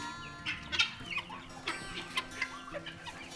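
Several hungry chickens cluck and squawk nearby in short, irregular bursts at feeding time in a poultry yard.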